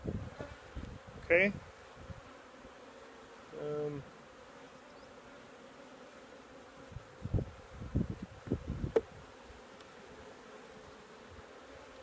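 Honeybees buzz steadily around an open hive during a beekeeping class in 2020, a low continuous drone throughout, with a few brief louder bursts and a short word spoken.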